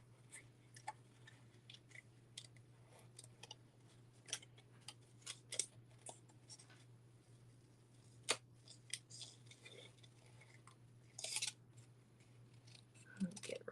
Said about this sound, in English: I'm gonna go ahead and fussy cut this one out.